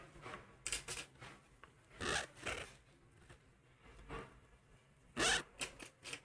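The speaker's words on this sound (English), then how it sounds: "and cut the extra yarn" Scissors snip through leftover yarn at the end of a multicolor scrap-yarn crochet flower coaster, a few short crisp cuts with small rustling handling noises between them, close and fairly quiet.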